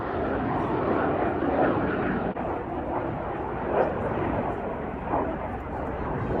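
Red Arrows jet aircraft roar past in close formation during an air display, a broad, loud sustained engine rumble with swelling passes and faint crowd or commentary underneath.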